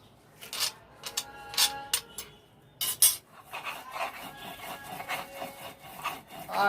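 Bottle gourd leaves being ground on a stone slab with a stone, close rough rubbing and grating strokes in irregular bursts, some sharp scrapes, with no talking.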